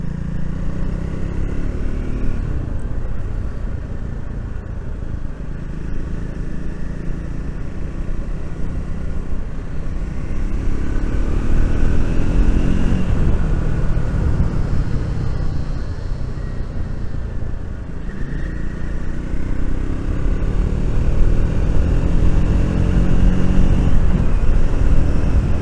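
Triumph Speed 400 motorcycle heard while riding, a loud steady engine drone under heavy wind rush that rises in pitch, dips at each gear change, then climbs again, repeating several times.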